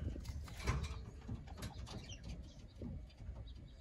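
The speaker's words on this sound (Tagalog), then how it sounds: "Ayan ang mga young birds natin." Young racing pigeons coo softly in a loft. The low, murmuring coos are faint and layered, with a brief flutter of wings.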